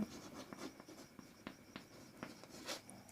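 A pen or chalk scratches out strokes on a classroom board in a quiet room, with short scraping bursts and taps coming in an uneven rhythm.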